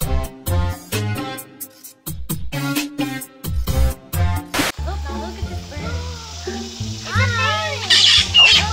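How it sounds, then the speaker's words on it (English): A bird squawks loudly at close range in an animal park, with harsh repeated calls, and people talk around it. "Bird."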